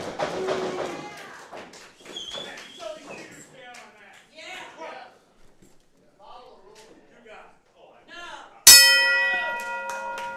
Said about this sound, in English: the opening bell has sounded